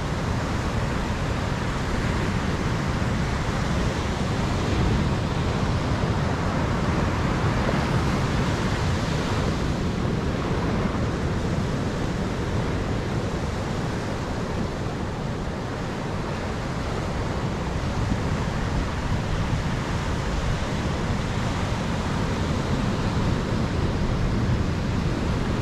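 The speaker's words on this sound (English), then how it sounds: "Huge waves over here." Large waves crash continuously on a rough coast near Prairie Creek Redwoods in California's Redwood National Park, a loud, unbroken roar of surf and wind with no speech.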